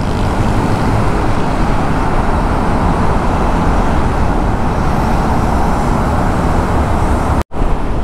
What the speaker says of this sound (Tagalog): Malaki na mga truck na kasabayan natin dito.